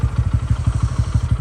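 A motorcycle engine idles close by at Dolalghat, Nepal, its rapid, even thumping putter steady for a brief moment.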